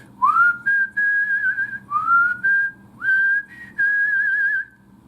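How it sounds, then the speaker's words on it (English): A person whistles a melody for a rock song, in clear, sustained phrases that slide up into each note, with short breaks between them and nothing else underneath. "It's time for the song with the whistling."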